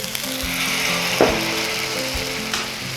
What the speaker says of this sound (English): until it starts to really get a good sizzle going